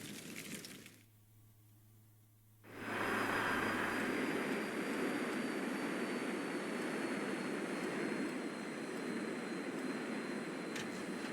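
An airplane engine in a video game cuts in after a brief quieter stretch, then holds a loud, steady, broadband roar to the end with no talking over it.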